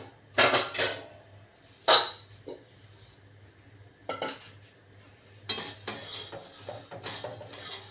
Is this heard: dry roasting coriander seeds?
yes